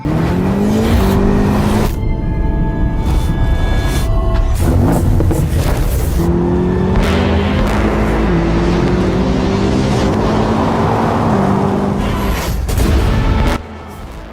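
A BMW M8 Competition sports car engine roars loudly and close, its revs climbing and dropping in repeated surges with the sound of a car pulling away and passing, until it cuts off near the end.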